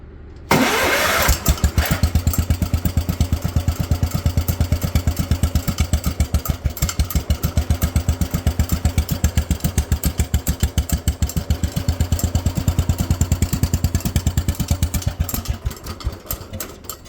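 A cold small garden engine, choked and battery-started, cranks briefly and catches at once, then runs close and loud with a steady rapid chugging pulse before easing off at the end.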